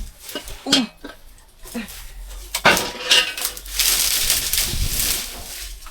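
Metal clanks and scrapes of a large cooking pot being moved and handled, with a few sharp knocks followed by a sustained rattling scrape.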